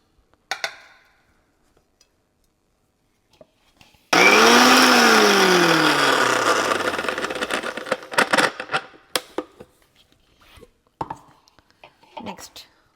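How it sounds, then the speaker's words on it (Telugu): A mixer grinder blending chillies and garlic for coriander chutney roars on abruptly, then its motor pitch sweeps down as it slows and stops over about three seconds, with clicks and handling knocks before and after. "మిక్సీ చేసుకుందాము."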